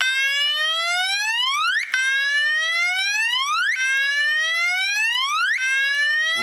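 A fire alarm sounds after its pull station is pulled, giving a loud, steady whoop: rising electronic sweeps that repeat about every two seconds, with no voices over it.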